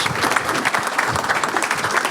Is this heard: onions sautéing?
no